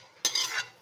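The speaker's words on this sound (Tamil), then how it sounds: "இப்போ இந்த தாளிப்பு அப்படியே இதில் சேர்த்துக்கிறேன்" Sizzling tempering poured into a dish and given a quick stir, a brief close burst of hissing and scraping lasting under half a second, with no voices.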